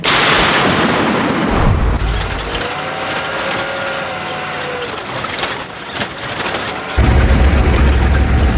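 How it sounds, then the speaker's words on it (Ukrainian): A heavy blast from a Melara howitzer booms at the start, then rumbling outdoor noise and a mechanical hum follow, with another loud low thud near the end. "Гармата! Постріл!"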